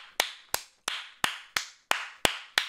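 One person clapping slowly and deliberately, eight sharp, close claps at an even rhythm with a little room echo after each and no talking.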